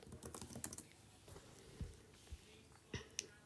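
Quiet computer keyboard typing while designing custom floaties in Roblox Adopt Me: a few scattered, soft key clicks with short pauses between them, close and faint.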